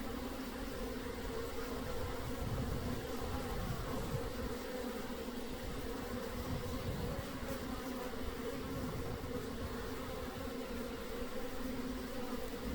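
A steady, dense buzz of a swarm of honey bees drones on continuously, close and unbroken throughout.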